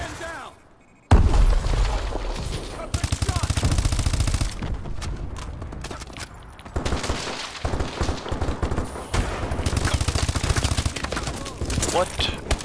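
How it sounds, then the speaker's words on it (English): Missile strikes and rapid gunfire burst through a PS4 Supremacy team deathmatch, loud repeated blasts and crackling shots filling most of the stretch, with a player talking over the action. "Friendly missile strikes incoming."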